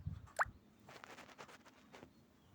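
Pieces of mutton drop into a pan of cooking spice mixture, giving one sharp wet plop followed by a few softer scattered thuds and light sizzle, close and quiet, with no talking.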